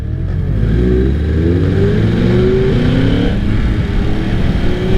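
A Yamaha R1 1000cc sport motorcycle revs hard while being ridden on the road, the engine note climbing and falling through gears, loud and close with steady wind rush underneath.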